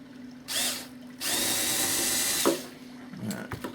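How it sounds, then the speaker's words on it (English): A power drill runs at steady speed for about two seconds while building an Edge 540 model airplane, preceded by a brief burst and followed by a few faint clicks and handling sounds nearby. "Drill back out."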